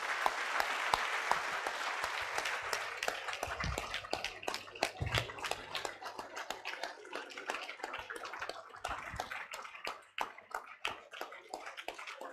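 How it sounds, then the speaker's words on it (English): Audience applause at a valedictory program for a professor's 70th birthday and retirement, sustained dense clapping with a few louder sharp claps, gradually thinning toward the end. "please keep clapping for her until she takes her seat"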